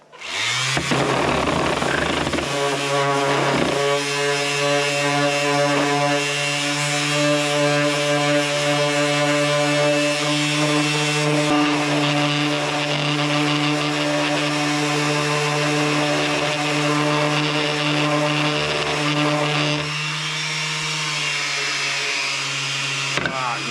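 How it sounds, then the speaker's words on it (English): A power sander works a wooden box, spinning up and holding a steady, loud, tonal whine for about twenty seconds, with a slight shift in pitch near the end and no talking. "Now I'm going to sand this with this. It's going to make a little noise."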